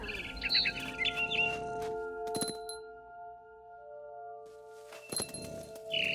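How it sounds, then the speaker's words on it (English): Short barn swallow chirps and tweets from a video game come in a few bursts over a steady synthetic drone, with a bright clink or chime in the middle. "I heard chirping outside my window. It was a barn swallow going back to her nest."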